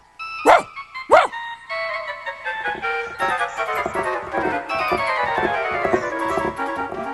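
A frightened little dog yaps twice in sharp, close barks, and then bright tonal music rises and carries on underneath.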